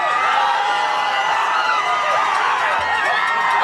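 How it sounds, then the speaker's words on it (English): A loud, dense crowd cheers and shouts continuously at the Denver Nuggets championship parade and rally at Civic Center Park, a steady roar that fills the whole stretch. "The crowd is so loud."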